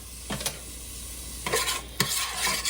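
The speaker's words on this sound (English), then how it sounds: "a tablespoon of butter in the bottom of a pot, and I have one medium onion that I chopped. I'm going to add that first" Chopped onion dropped into melted butter in a pot: a soft, steady sizzle broken by a few louder scraping stirs, close and without voices.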